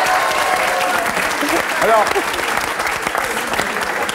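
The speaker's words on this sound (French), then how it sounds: "C'était Mahu, on l'applaudit." A television studio audience applauds steadily throughout, a dense crowd clapping under a host's voice that speaks briefly partway through.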